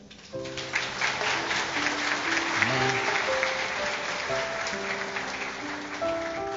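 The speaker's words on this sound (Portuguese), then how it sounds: "Eu posso ouvir o aplauso da igreja" A church congregation applauds steadily over sustained keyboard music, the clapping filling the room at moderate volume while a voice speaks briefly.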